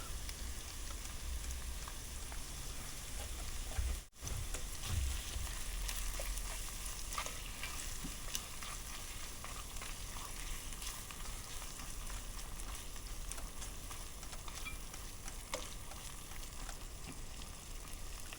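Garlic and ginger paste fries for a chicken tikka masala curry in a Ninja Woodfire, a constant dense sizzle close by with a brief dip partway, no voices.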